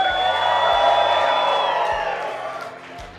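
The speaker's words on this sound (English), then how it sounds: "Can you hear the crowd in the background?" Crowd at The One Moto Show, a motorcycle show, cheering and whooping in the distance as a steady wash of voices with a sustained tone over it, loudest early and fading slightly toward the end.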